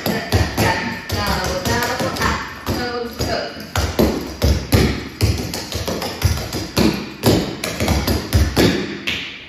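Tap dancing steps ring out in a brisk, irregular rhythm of sharp stomps, knocks, slaps and claps, close and loud, with a voice calling the steps over them.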